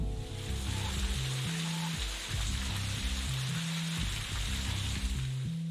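Steady rain falls outside in the game Necrobarista, a dense hiss that runs unbroken beneath a low, stepping musical pattern.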